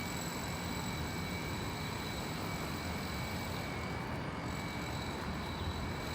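Trane Odyssey air conditioner units in downtown Louisville hum steadily, a continuous broadband whir with faint high tonal whines, unchanging and moderately distant, with no talk.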